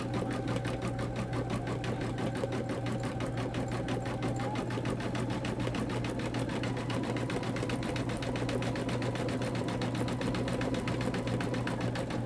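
An embroidery machine stitches a monogram, a continuous rapid mechanical chatter with a steady hum underneath, loud and close and without a break throughout.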